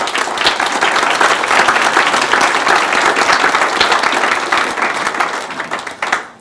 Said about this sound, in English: I would like to give her a nice round of applause for that